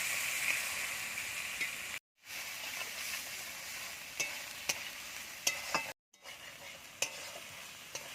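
Ginger-cumin paste masala with a little water sautéed in a pan, giving a steady close sizzle with scraping stirs and a few sharper clicks of the spatula, broken by two brief silent gaps.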